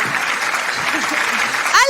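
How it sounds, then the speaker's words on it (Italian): Audience applause at a live Neapolitan song show, a brief dense burst of clapping under a continuous hiss, with a voice cutting in at the very end. "Voglio un applauso, forzola!"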